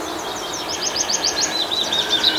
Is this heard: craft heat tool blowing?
no